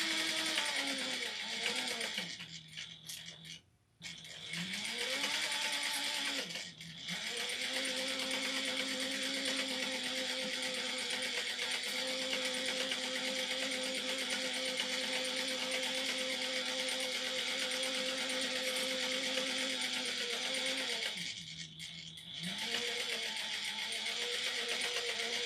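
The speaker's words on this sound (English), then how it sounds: "we're going to sew around the edge of the brim, and I'm using a 1/4 of an inch seam allowance" Sewing machine stitching around the edge of a fabric witch or wizard hat brim, a close steady motor whir that pauses briefly twice and restarts, with a person talking over part of it.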